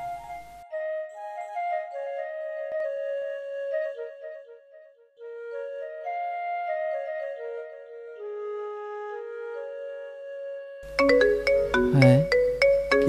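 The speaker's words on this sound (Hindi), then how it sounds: "फोन आ गया" A phone ringtone plays a steady melodic tune of sustained electronic notes for several seconds, then a louder, busier burst of sound cuts in near the end.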